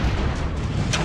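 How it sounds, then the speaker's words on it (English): A bomb detonating in the side-scrolling action game Broforce, a dense, loud blast with booming low rumble filling the whole second, no voices. "That's a bomb, I just realized!"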